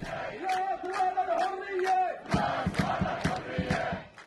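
A crowd of protesters in Umm al-Fahm marches toward the city police station chanting slogans in unison, the rhythmic shouted phrases loud and repeated, with a sharper burst of clipped, forceful chanting in the second half.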